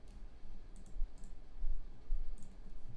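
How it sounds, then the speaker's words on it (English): Plastic game cartridges being sifted through by hand, a quiet run of scattered small clicks and clacks over a low room rumble. "I'm just sifting through cartridges, as you can hear."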